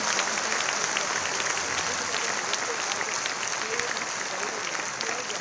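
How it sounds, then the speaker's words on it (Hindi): Loud, sustained applause from a large crowd of children and boys at a public event in Gorakhpur honouring Maharaj ji, steady clapping filling the whole stretch with no pause. "महाराज जी खातिर गड़गड़ा के कुल लड़का बच्चा लोग एगो जोरदार ताली"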